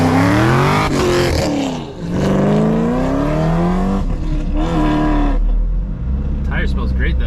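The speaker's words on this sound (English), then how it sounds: "traction control fighting for its life, bro. Why? Oh, you burnt rubber, though." A 650 hp Chevrolet Camaro ZL1 accelerates hard with its tires spinning under fighting traction control, its engine roaring loud and rising in pitch through shifts while people talk over it inside the car.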